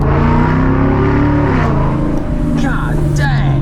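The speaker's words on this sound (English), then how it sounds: "Thank you, Ford, for not giving up on the V8, because listen to that." A Whipple-supercharged 2024 Ford Mustang GT V8 roars loud and close, its engine note climbing and easing through revs with a steady heavy rumble, and a voice speaks briefly over it.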